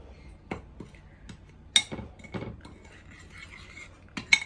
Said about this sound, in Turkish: Şimdi bunu iyice böyle karıştıracağız.